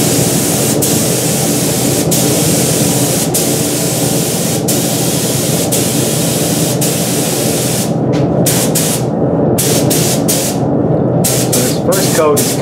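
Spray paint rig hisses steadily while spraying a tack coat on a guitar body for a Fender Custom Shop style sunburst, a continuous close hiss that stutters with short gaps near the end.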